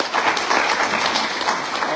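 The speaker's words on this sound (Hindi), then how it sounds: "Great leader doctor Safi Mohammad sir, जोरदार तालियां।" An audience claps at a leadership development training session in Ramnagar, a dense, steady burst of applause that fills the room for a couple of seconds.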